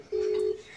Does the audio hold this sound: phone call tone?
yes